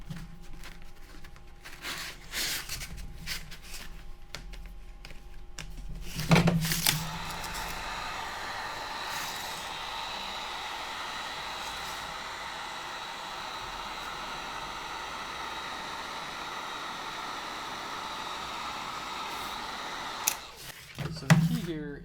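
A heat gun blows steadily across Worbla thermoplastic laid over pink XPS insulation foam, a hissing airy rush lasting about fourteen seconds, preceded by some handling clatter and brief talk.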